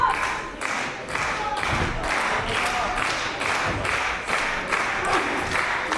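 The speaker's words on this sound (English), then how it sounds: "And you can hear the crowd just willing Josh Adams to his feet." A wrestling crowd at a live pro wrestling show cheers and claps in steady, surging waves, a dense roar that swells rhythmically and stays loud throughout.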